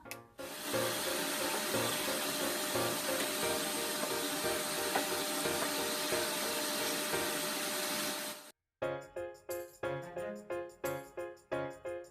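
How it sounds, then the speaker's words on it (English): A shop vacuum cleaner roars loudly and steadily for about eight seconds in a basement, then cuts off abruptly, followed by a series of short, rhythmic suction bursts as it is worked in pulses. "Let's get the handy dandy suck vac."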